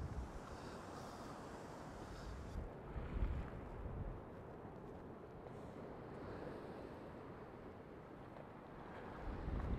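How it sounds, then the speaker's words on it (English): Wind gusting over open water during a boat fishing trip for rock blackfish, a steady broad roar of wind buffeting the microphone with wave wash underneath, constant and fairly loud throughout. "but the wind's picking up"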